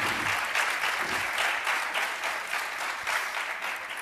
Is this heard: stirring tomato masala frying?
no